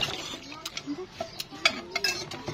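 A metal ladle scraping and clinking against a cooking pot in a rural Philippine home kitchen, a few sharp clinks and scoops with quiet voices in the background.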